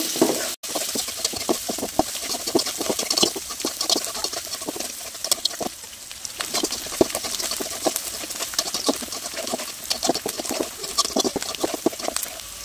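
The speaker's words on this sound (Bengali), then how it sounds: "এখন দিয়ে দিচ্ছি 4-5টা কাঁচামরিচ কুচি, ভালো করে ভেজে নিচ্ছি।" Chopped green chillies and crushed garlic fry in a pan for a Bengali taro-flower and fermented dried fish dish, giving a steady close sizzle and crackle with frequent light stirring scrapes throughout.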